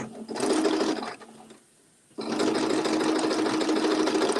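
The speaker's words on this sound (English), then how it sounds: "I have a walking foot on my machine." A sewing machine fitted with a walking foot stitches through two layers of terry cloth towel, a loud rapid mechanical chatter that runs, pauses briefly to near silence, then resumes and continues steadily.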